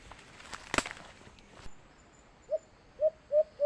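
Alimukon dove calling during a hunt, a soft hollow hoot repeated four times at a steady rhythm in the second half, fairly close, preceded by a few rustling footstep sounds.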